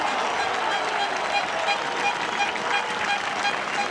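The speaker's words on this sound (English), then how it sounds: "Bradford met with a rapturous roar of applause from a thoroughly packed ground." A packed rugby league ground at Odsal roars with sustained applause as Bradford take the field against Wigan, a dense, steady wash of crowd noise with no gaps.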